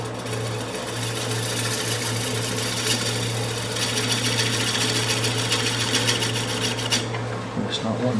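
A wood lathe gouge scrapes across a soft spot in the grain of a large salad bowl, giving a steady, close, rasping cut over a constant low motor hum for about eight seconds, with no talking.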